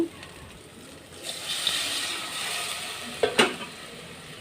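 A pan goes from quiet to a loud burst of sizzling as water hits hot frying spices, then a steady hiss with a few clinks of stirring.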